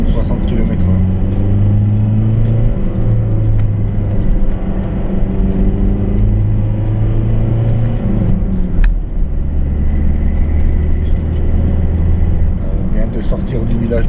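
A car climbs the winding Col de Romme mountain road near Cluses at about 50–60 km/h, its engine a loud steady rumble with droning tones heard from inside the cabin, while a voice talks over it.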